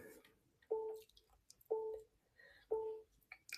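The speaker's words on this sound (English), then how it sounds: "Helps the honey just kind of drip off, right?" Honey dripping off a ridged wooden honey dipper, three distinct soft plops spaced about a second apart, close and quiet with faint background noise between them.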